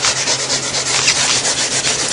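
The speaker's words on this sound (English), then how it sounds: "Stay in this area and scuff this down really good." Hand scuffing of painted car body panel on a Chevy Corvette door, a steady rasping rub repeated in quick even strokes, close and fairly loud with no talk.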